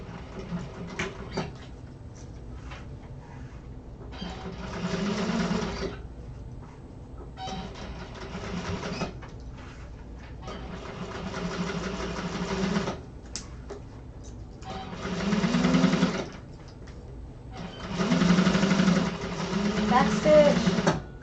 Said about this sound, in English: sew that bottom shut from those stitch points all the way across, 5/8 of an inch seam allowance